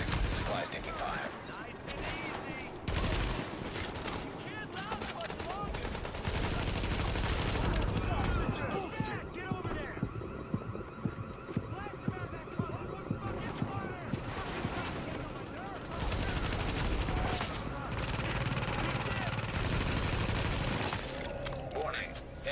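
Gunfire in The Division during a firefight, with sustained overlapping bursts of automatic shots and scattered single cracks, dense and continuous over the whole span, amid game noise and a voice speaking.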